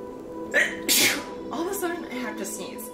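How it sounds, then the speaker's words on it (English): A single sharp, loud human sneeze bursts out near the microphone, followed by a short stretch of talking. "whenever I sneeze like that"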